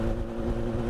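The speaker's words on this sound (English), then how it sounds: "That exhaust note" Mev Mevabusa car gives a brief, loud, steady exhaust drone with a deep rumbling tone, heard alone for under a second.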